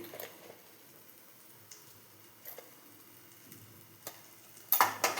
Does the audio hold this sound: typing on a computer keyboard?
no